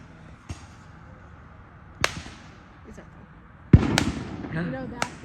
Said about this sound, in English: Oh, we're gonna show you the fireworks.